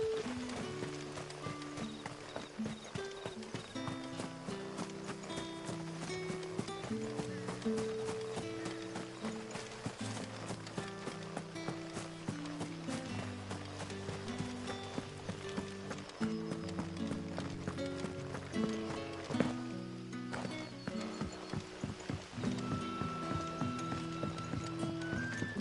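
Hooves of the horse Ambrosia pound in a fast, steady gallop in Final Fantasy XVI, loud and close throughout, under a melodic game music score.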